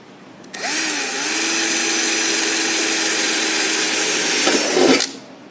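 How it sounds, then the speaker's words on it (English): A power drill whines steadily through a thin sheet-metal toolbox lid for several seconds, loud and close, then winds down abruptly and stops. "I'm going to drill through"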